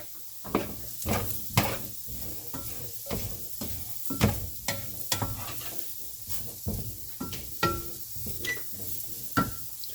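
Potato cubes tossed with salt in a wok for a beef and potato dish: repeated scraping stir strokes at an irregular rhythm over a soft sizzle, close and moderately loud, with no talking.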